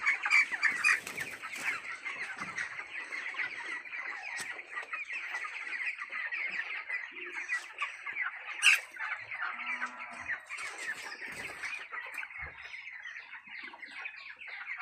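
Chickens on a poultry farm clucking and squawking continuously, many birds at close to moderate distance with occasional louder squawks and no talking.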